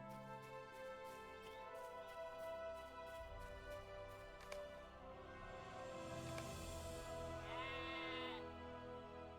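Sheep in Lord of the Rings Online bleat several times over a steady in-game ambient bed with music-like tones, the calls rising clearly in the middle and trailing off toward the end.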